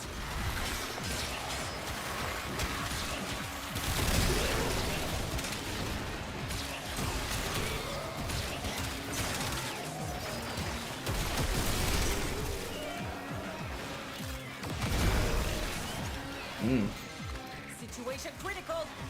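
Weapon fire in the Warframe shooter game, with dense continuous shooting, bursts and explosive pops layered into a busy game mix, while a voice talks throughout.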